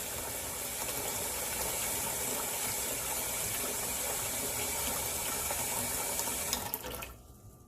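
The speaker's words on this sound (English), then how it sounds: "So let's put some more water in there." Tap water gushes steadily into a cooking pot for collard greens with smoked ham hocks, a loud, continuous broadband rush that fills the kitchen for about six and a half seconds, then cuts off abruptly as the faucet is shut.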